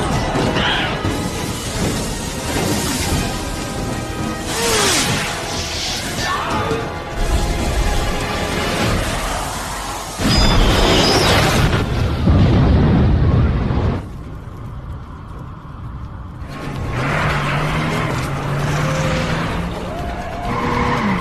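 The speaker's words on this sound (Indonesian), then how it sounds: "CJ menggunakan gas lagi untuk membuat ledakan dan berhasil membukakan jalan bagi mereka" A gas-fuelled blast in a zombie film, loud and sustained, mixed with roaring engines, skidding tyres and crashing debris in a dense action soundtrack with some voices.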